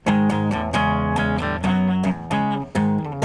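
An electric guitar plays an intro with a clean tone, crisp strummed chords in a punchy rhythm with short gaps between phrases, loud and close.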